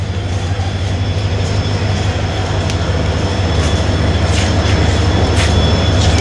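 Rajdhani express train on the Guwahati to Patna route arriving at a station, a loud steady rumble and rolling roar with a faint high whine and occasional clicks, continuous and close.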